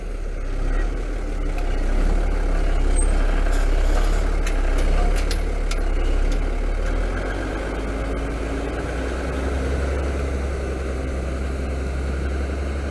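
A big truck named Thor rumbles as it is driven a short way and parked, its deep engine idling and pulling steadily with a strong low-end drone, heard close and continuous without speech over it.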